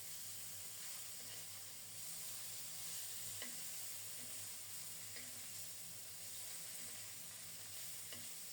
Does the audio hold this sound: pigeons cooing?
no